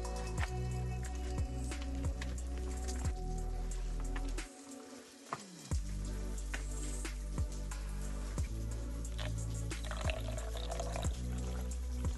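Water pouring and dripping inside a large cave that serves as a water source, a steady trickle with regular echoing drips, interrupted by a brief lull, with faint cooing birds in the background.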